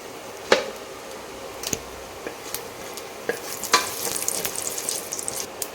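Fennel seeds crackle and sizzle in sesame oil in a pressure cooker, with scattered sharp pops and a light stir or clink of a utensil, a steady soft frying hiss underneath.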